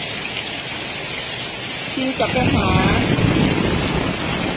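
Steady rain falls as an even, hissing wash that thickens midway, with someone speaking briefly over it.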